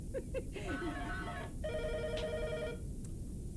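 A telephone rings in a room, a close electronic ringing tone in two bursts over a steady background hiss, with voices faintly present.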